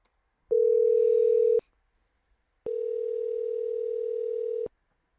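Telephone ringback tone while calling a number: two clean steady beeps, a short one then a longer one about two seconds, separated by silence, loud and close.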